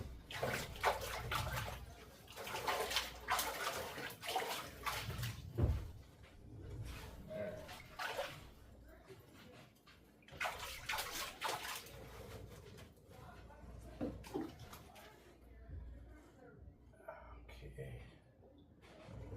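Water rinses over a sluice mat while gold tailings are washed, a steady splashing and running-water wash that comes and goes in bursts, close and fairly loud, with soft voice-like hiss mixed in.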